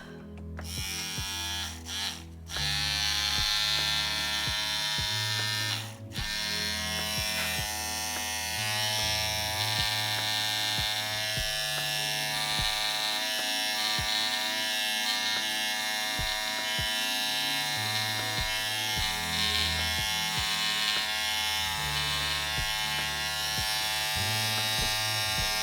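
Electric shaver buzzing steadily as it shaves down a faux fur coat, a loud, close, continuous motor drone with slight pitch shifts and brief pauses near the start, no talking.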